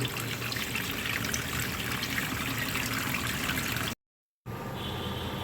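Vegetables being rinsed by hand under a running tap, a steady close trickle and splash of water that continues throughout and breaks off briefly near the end.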